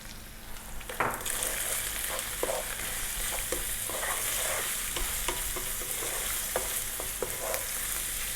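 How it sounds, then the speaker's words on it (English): Ground cumin, chili powder and oregano sizzle in a hot pan. A sharp hiss opens it, then a continuous frying crackle with repeated scraping clicks as a utensil stirs, close and steady, with no speech. "We're now going to drop in our spices."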